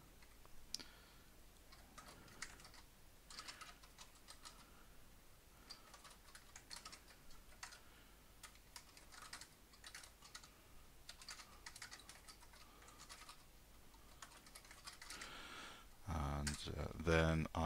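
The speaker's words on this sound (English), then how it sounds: "go into insert mode, pressing I, and type in a meaningful commit message" Quiet, steady typing on a computer keyboard, a rapid patter of soft key clicks continuing throughout, with louder handling noise near the end.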